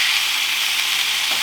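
Steak and garlic herb prawns sizzle inside an air fryer, giving a steady bright hiss that holds evenly for the whole moment with no talking over it.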